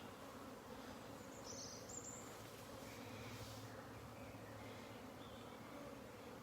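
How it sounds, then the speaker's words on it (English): Bees buzzing in a backyard garden, a steady faint insect drone under outdoor ambience, with a few passing individual buzzes near and far. "The bees are right at the back here."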